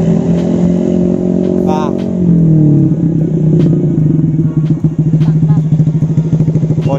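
Honda New Beat ESP scooter with a CLD Monster exhaust and tuned CVT revving hard and close, its rough, throbbing drone rising then holding steady with a rattly pulse, as people talk over it.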